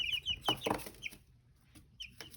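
Chickens clucking close by in short, uneven bursts of a few calls with brief gaps between them, fairly faint and heard alone.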